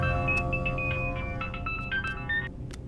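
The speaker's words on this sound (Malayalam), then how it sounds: "ഫോൺ എടുക്കണം." A phone rings with a melodic electronic ringtone, a bright run of short tones over a low continuous background hum, nearby and steady for a few seconds.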